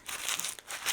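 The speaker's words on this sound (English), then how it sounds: "After it dries and make sure that it's dry, you're gonna crinkle it up." A painted paper bag being crumpled by hand gives continuous dry crinkling with a few sharper crackles, close and moderately quiet, with no talking.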